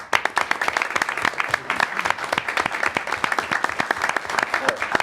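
Energetic audience applause at a school committee meeting honoring students, many hands clapping loudly and close for five seconds, with individual claps standing out in a busy rhythm.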